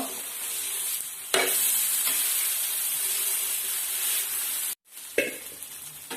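Yam adai fries on a pan over a slow flame, giving a steady close hiss of sizzling oil that briefly swells louder and drops out for a moment before resuming.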